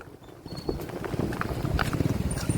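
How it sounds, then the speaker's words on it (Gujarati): A horse trots along in rural Gujarat, its hooves clip-clopping in a quick, increasingly regular rhythm that grows louder and nearer, with faint outdoor background noise. "તો મિત્રો હવે ઘોડો ઉપડ્યો છે"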